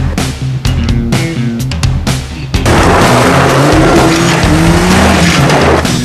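Off-road cars climbing a steep hill during a rally, engines roaring loud and close with rising revs after sharp clattering bursts at the start, continuous heavy drive with no talk.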